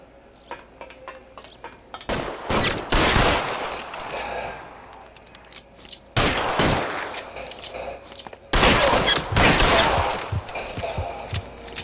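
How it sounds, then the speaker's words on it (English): Gunfire in the crime game LA Noire, a few loud bursts of shots, some in rapid clusters, separated by quieter stretches with faint background noise. "I was trying to shoot a warning shot and get him."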